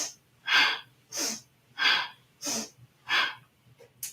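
Rapid yoga breathing with forceful pumped exhales: six sharp, evenly spaced breath bursts in a steady rhythm, close to the mic and clear against a quiet background.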